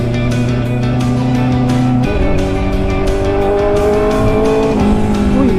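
On a mountain road to Malico, Pangasinan, a truck drones loudly during a motorcycle ride, its engine tone shifting in pitch over constant wind buffeting.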